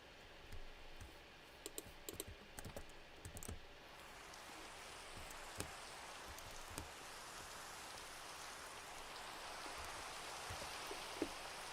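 Steady Minecraft rain hiss sets in and keeps up to the end, with scattered clicky taps and keyboard-like clicks over the first few seconds; no one speaks.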